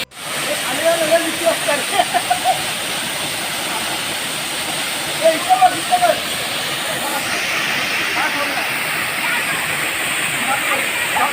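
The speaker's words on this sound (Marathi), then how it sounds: "आता कड्याखाली जातो आहे आम्ही धबधब्याच्या खाली" The Brahmadev waterfall at Donivade roars in a constant broad rush, loud and close, heard from beneath the cliff, with short bursts of voices rising briefly above it.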